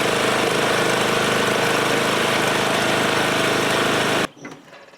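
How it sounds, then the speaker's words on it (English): A riding mower engine runs loud and close with a steady, rattling drone for several seconds, then cuts out abruptly, leaving faint background noise. "then try starting the engine"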